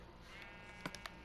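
A single sheep in Minecraft lets out a few short, clear bleats in quick succession over a steady low background hum, standing on top of an experimental building in a blocky video game world.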